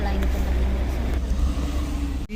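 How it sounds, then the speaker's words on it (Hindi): Cars crawling in a slow traffic jam on a mountain road between Kangra and Manali, a steady low engine rumble close by with a faint voice at times. "थोड़ा जाम मिला है, पता नहीं किस चीज़ का।"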